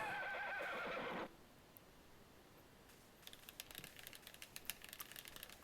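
Horse in the video game Another Wonderful Life gives a loud, shrill neigh that cuts off after about a second, followed by quiet, scattered light clicking taps.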